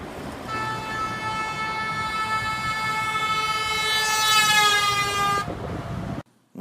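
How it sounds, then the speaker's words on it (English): A car horn blares in one long, continuous tone as the car drives past, growing louder toward the end before cutting off abruptly, with road noise underneath. "if I get in this car and honk the horn while I drive by the camera"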